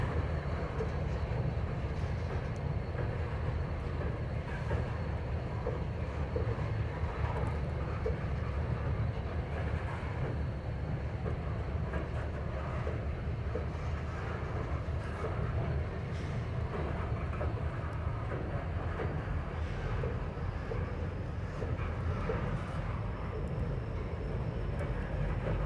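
Norfolk Southern freight train rolling steadily past with a KCS boxcar in the consist, a continuous loud rumble of rail cars with faint clickety-clack, steady throughout with no talking.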